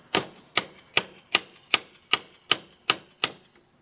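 A hammer strikes a pry tool wedged under door brick moulding, giving nine crisp, evenly spaced taps at a steady rhythm, close and fairly quiet, with no talk.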